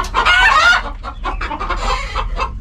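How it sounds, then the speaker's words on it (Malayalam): Chickens cluck and squawk close by in a desert farm setting, a loud burst at first followed by a series of short, choppy clucks. "പൂങ്കോഴി പടക്കോഴി ഒക്കെ ഉണ്ട് കേട്ടോ."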